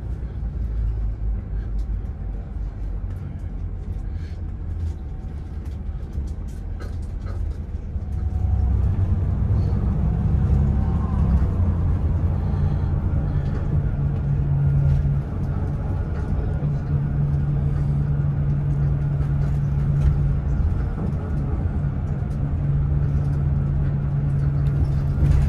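Buses and cars idle and pass at a village bus station on the Chur to Milan route, a low steady engine rumble that swells partway through with a sustained humming tone, while faint talk sits in the background.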